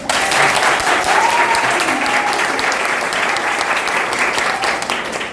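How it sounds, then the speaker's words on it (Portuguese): An audience claps loudly and steadily for several seconds in a room, a dense applause that fades slightly at the end. "Dê uma salva de palmas para ela."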